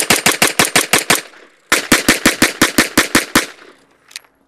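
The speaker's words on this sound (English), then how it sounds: "let's go to the range and shoot this magnificent pistol for accuracy" Rapid shots from a Wilson Combat Vickers Elite pistol fired at a range: two fast strings of sharp, loud reports, about seven and then eleven evenly spaced, with a short pause between and a faint clink at the end.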